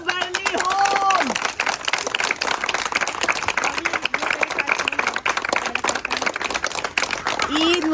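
Several people clap in a home setting, crisp hand claps sounding close and continuous throughout, while voices talk and call out over them.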